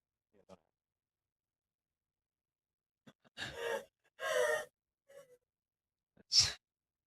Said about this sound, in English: Emily breathing very loudly